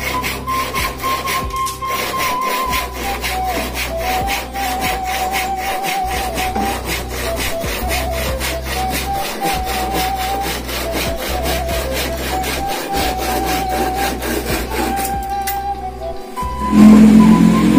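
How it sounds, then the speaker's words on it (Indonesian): A hand saw rasps steadily through wood in a long run of regular back-and-forth strokes on a wooden house construction site, with a low machine hum underneath and a louder knock at the end. "Suara gergaji teman-teman, karena di bawah lagi pada kerja."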